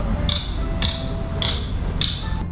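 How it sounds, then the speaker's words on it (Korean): Hammer blows ring on metal at a boat repair site along a riverside in Porto, four sharp evenly spaced strikes about every half second over a low background hum. "그 막 철 소리 왜 망치 소리가 어디서 나나 했더니 여기서 나고 있었어"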